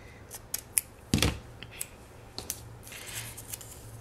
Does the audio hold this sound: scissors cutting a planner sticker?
yes